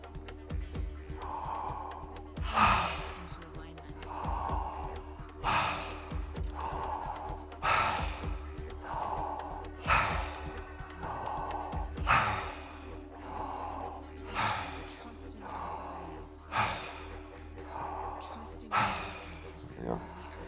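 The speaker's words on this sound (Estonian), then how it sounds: "Praegu meil on aeglane ja sügav hingamine" Slow, deep breaths drawn in and out through the mouth in a connected rhythm, about a dozen cycles with sharp inhales and long exhales, close and steady, with no talking.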